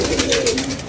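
A pigeon coos at a doorway, a low, soft, throaty warble heard close and clear for about a second.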